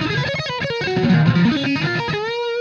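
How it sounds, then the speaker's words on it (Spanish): Electric guitar played through distortion, a thick driven tone with sustained notes and a short melodic run ending on a held note, close and loud with no talk. "Si pongo la distorsión, va a sonar"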